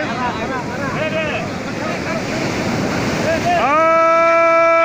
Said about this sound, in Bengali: বিশাল বড় ঢেউ উঠেছে,